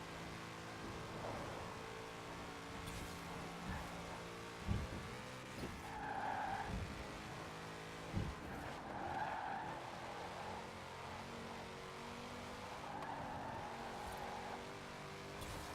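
In the Forza racing game, a car corners hard with repeated tire squeals and skids over a steady engine drone, the screeches rising and fading in several bursts.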